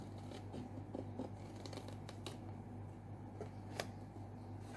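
Quiet, close snips of scissors cutting paper, a few crisp cuts scattered over a low steady hum.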